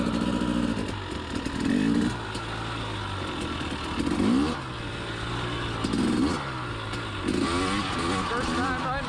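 A KTM 300 XC TPI two-stroke dirt bike revs and pulls in repeated bursts while riding, the engine note rising and falling about every two seconds, loud and close with a steady underlying drone.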